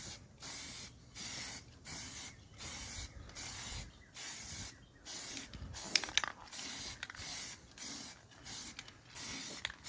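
Spray paint can hissing onto wheels being painted for a patina finish, in about ten regular bursts of even length with short gaps between, close and steady, with faint clicks under a couple of them.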